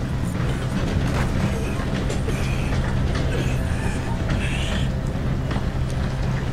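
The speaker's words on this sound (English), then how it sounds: "We gotta get on that train!" A train in the video game Red Dead Redemption 2 rumbles steadily and loudly throughout, a continuous clattering roll with no break and no speech over it.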